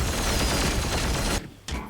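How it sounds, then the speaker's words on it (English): A dense, loud burst of scattershot gunfire from the Warhammer 40,000: Chaos Gate - Daemonhunters video game roars continuously. It cuts off abruptly, then comes back briefly. "I could even scattershot again, which will kill the dreadnought and almost kill the other guy"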